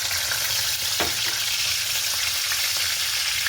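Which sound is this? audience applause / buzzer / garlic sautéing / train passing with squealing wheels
garlic sautéing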